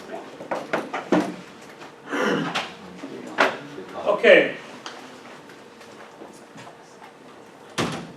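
A door closes indoors with a few soft thumps and a sliding scrape among other handling knocks, then one sharper knock near the end, with a person speaking briefly in the room.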